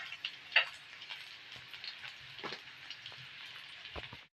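Garlic and onion fry in a hot pan for buttered shrimp, giving a close, steady crackling sizzle dotted with small pops and ticks, with no talking.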